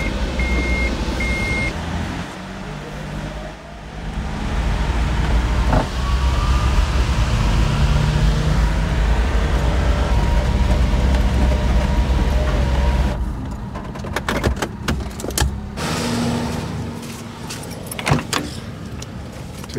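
A DIY Japanese mini truck camper driving in 4-wheel drive, with a steady loud engine and road rumble for most of the stretch, then rattling, clunking and jingling near the end, close up and with no talking.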